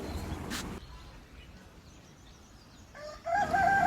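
Turkeys calling at an outdoor spot in Sikkim, with a short burst near the start and then loud, harmonic calls returning near the end after a quieter stretch.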